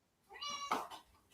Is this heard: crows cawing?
no